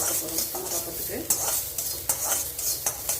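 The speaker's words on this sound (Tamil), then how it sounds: "இதில் கடுகு சேர்த்துட்டேன் உளுத்தம் பருப்பு சேர்த்துட்டேன் எல்லாத்தையும் லைட்டாக வறுத்து கொடுத்தா போதுங்க" Mustard seeds and urad dal roasting lightly in a pan, giving a steady crackling sizzle punctuated by several sharp spoon scrapes and taps against the metal.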